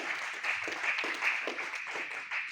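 A crowd at a book release event claps together in steady applause, moderately loud and sustained for a couple of seconds.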